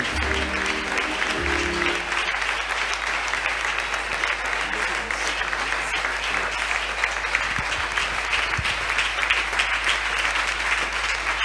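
A church congregation applauds the apostle Jean-Clément Diambilay in sustained, dense clapping over a low steady hum, with a few musical notes at the start.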